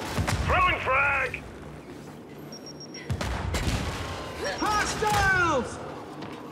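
In Gears 5 Horde on the Turbine map, a frag grenade explosion booms midway amid rattling gunfire, with mechanical creaks and shrill shouting voices layered loudly over the combat.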